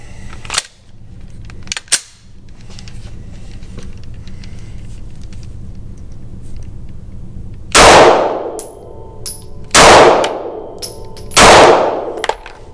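Three loud pistol shots fired at a 10-yard target with a Swampfox Justice red dot sight mounted, sharp cracks spaced about two seconds apart with ringing decay, after some quieter handling clicks.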